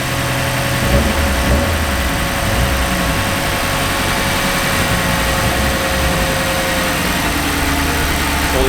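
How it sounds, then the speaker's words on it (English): An Audi R8 engine idling during a valve cleaning treatment after an oil change; a loud, steady mechanical hum with constant low rumble and slight vibration, continuous with no talk. "you can hear the process has begun because the idle's already starting to drop below what it normally would be idling at"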